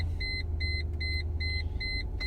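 Regular electronic warning beeps from a 2005 Mercedes-Benz ML500 (W163) just after switching on, about five evenly spaced tones over a steady low engine idle.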